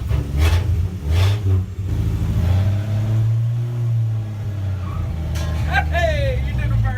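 A 1964 Dodge D100 pickup's engine revs hard and drones steadily in a burnout with the jack stand still under it, loud and close, while people talk and shout over the roar.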